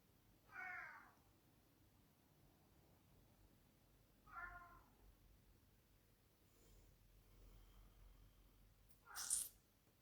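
A house cat meows indoors, two clear mid-length meows a few seconds apart, close but fairly quiet, followed by a brief sharp sniff or sneeze, with no talking.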